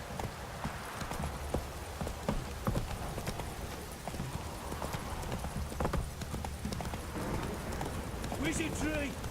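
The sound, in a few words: horse galloping in video game The Witcher 3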